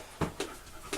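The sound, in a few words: dog barking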